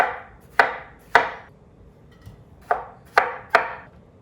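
A knife chops through a yellow watermelon on a cutting board in six sharp, crisp strikes spaced irregularly, each a near, distinct thunk with a short decay, and quiet gaps between them.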